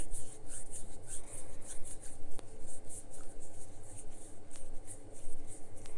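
Hands rub together during washing with fingers interlocked, making a close, continuous rhythmic friction and swishing with repeated strokes.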